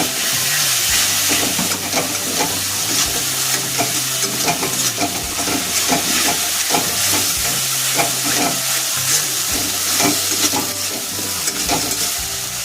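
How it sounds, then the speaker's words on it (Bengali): Tomato paste with ginger paste fries in a pan for a rohu fish poppy-seed curry, giving a loud, steady sizzle with bursts of stirring scrapes throughout. "টমেটোর পেস্টটা দিয়ে দিচ্ছি"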